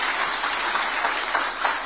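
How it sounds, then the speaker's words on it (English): An audience at a Kenyan official address by President Ruto gives a dense, steady round of clapping. The clapping is loud and close, with many hands blending into one continuous patter. "Another round of applause"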